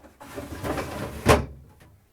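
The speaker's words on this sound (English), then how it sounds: "Next, I'm going to push in the crisper pans." Plastic refrigerator crisper drawers slide in with a soft scraping rumble, ending in a single muffled thump, close and fairly quiet.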